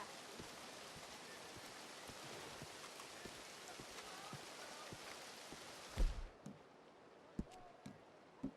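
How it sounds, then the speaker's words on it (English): Steady rain falls across an outdoor scene in the video game Red Dead Redemption 2, a dense even hiss that cuts off abruptly partway through, leaving quieter ambience with a few soft thumps and knocks. "I find the rain soothing."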